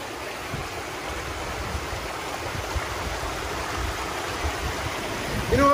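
Grout Creek, a tributary running fast into Big Bear Lake, makes a steady broadband rush of flowing water, close and constant throughout with no speech over it.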